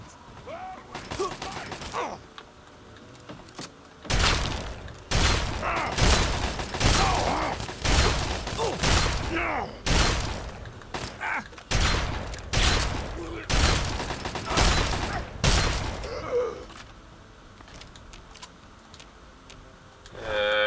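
Repeated bursts of gunfire from the video game Fallout 3, loud shots in uneven clusters over about twenty seconds, with a voice speaking briefly near the start and quieter stretches between volleys.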